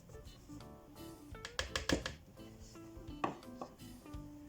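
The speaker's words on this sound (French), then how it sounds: "Je vais commencer par mélanger tous les ingrédients secs" Dry ingredients for crêpes, starting with flour, being mixed in a bowl: soft scraping and clinking of a utensil against the dish, with a cluster of sharper taps in the middle, close and fairly quiet.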